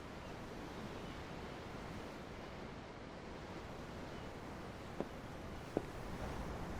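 Ocean waves at a dock in Tales of Arise, a continuous broad wash of surf with wind-like hiss, steady and enveloping, with two faint clicks near the end and no talking.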